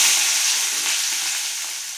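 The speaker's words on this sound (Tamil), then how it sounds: "கடுகு பொரிஞ்சிச்சு, வெங்காயத்தை போட்டுக்கலாம்." Onions frying in hot oil with popped mustard seeds in a kadai, a steady loud close sizzle and crackle that continues without a break and fades slightly toward the end.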